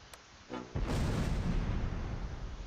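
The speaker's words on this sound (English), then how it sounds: "this mortar barrage apparently has missed absolutely everyone" Mortar rounds land in a barrage in the WWII strategy game Close Combat: Last Stand Arnhem. A faint pop is followed by a heavy, rumbling explosion that swells and then lingers as a sustained roar.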